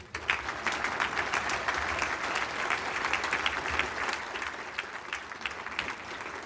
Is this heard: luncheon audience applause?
yes